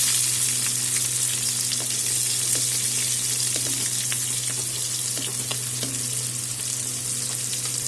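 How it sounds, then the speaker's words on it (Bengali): Chopped onions fry in hot oil with a bay leaf, two dried red chillies, whole cumin and a pinch of salt, giving a constant loud sizzle with scattered pops and light stirring scrapes, and no voices. "পেঁয়াজটা ভাজা হবে মোটামুটি, আমার পেঁয়াজ মোটামুটি ভাজা হয়ে গেছে।"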